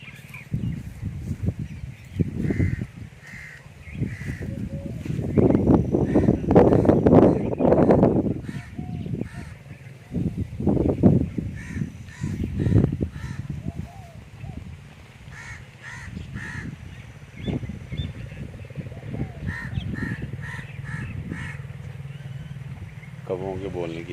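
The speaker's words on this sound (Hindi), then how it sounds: "कौवों के बोलने की आवाज़ें।" Crows caw repeatedly in a quiet village, with harsh calls scattered through the scene, some near and some farther off, alongside other bird calls, occasional vehicle noise and bursts of speech.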